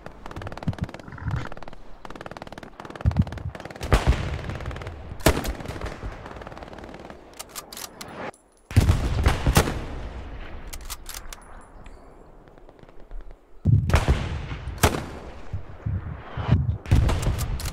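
Gunfire in the World War II video game Hell Let Loose: repeated bursts of loud, sharp automatic rifle and machine-gun fire in clusters, with a few short pauses and distant shots in between, near and forceful.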